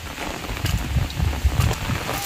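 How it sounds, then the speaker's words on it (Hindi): Heavy early-morning rain pouring steadily outdoors at a village home, a dense continuous hiss with low rumbling gusts and patter, fairly loud and unbroken, with no talking. "अभी सुबह सुबह इतना ज़्यादा बारिश दे रहा"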